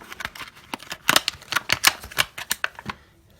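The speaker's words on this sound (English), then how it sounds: "I just cut the plastic around the edge of the knife enough so that I can pop it out" A knife slicing around the edge of plastic blister packaging, a quick series of crisp clicking, crackling cuts that stop abruptly.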